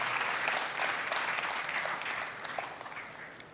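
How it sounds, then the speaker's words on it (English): A conference crowd applauds the MC at a national career conference and exhibition, a steady roomy wash of many hands clapping with no talk, tapering slightly toward the end. "Our MC, I think he deserves a clap."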